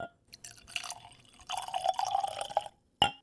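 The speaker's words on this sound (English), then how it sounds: "That's a great sound. Heavy pours." Yellowstone Rum Cask whiskey is poured in heavy glugging splashes into a glass, first in a short burst, then a longer steady pour, ending with a brief final splash.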